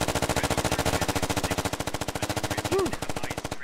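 Sustained, rapid automatic gunfire from the video game Squad, loud and close, firing in a steady hammering rhythm that fills the whole stretch without a break.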